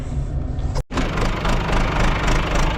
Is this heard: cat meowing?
no